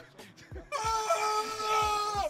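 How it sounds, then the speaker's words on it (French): Spectators scream at the GP Explorer car race event, heard from a livestream: after a few soft thumps, a sustained chorus of high-pitched, wailing cries rises and holds steadily at moderate loudness. "Les cris."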